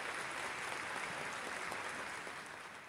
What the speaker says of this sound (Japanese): 皆様大きな拍手をお願いいたします。